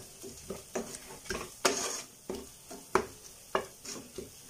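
Curry leaves being stirred through a pan of spicy fish head curry, with a spoon scraping the pan in a steady rhythm of close, distinct strokes over a soft, continuous sizzle.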